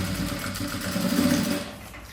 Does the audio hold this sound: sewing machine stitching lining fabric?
yes